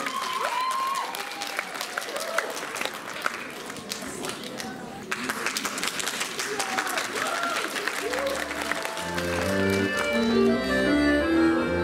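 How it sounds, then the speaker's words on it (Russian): Loud, sustained audience applause at a staged concert performance, dense clapping that fills most of the stretch before giving way to music with a steady beat. "Встречайте, бурными аплодисментами"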